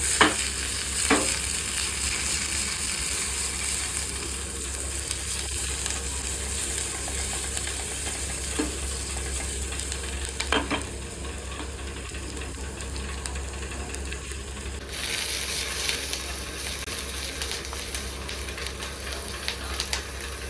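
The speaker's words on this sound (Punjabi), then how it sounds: "ਇਹ ਮੇਰਾ ਹੁੰਦਾ ਪਿਆਜ਼ ਪਕਾਉਣ ਦਾ ਤਰੀਕਾ" Onions frying in a kadai with a steady sizzle, stirred now and then with a spoon scraping the pan. A constant low hum sits underneath the cooking sounds.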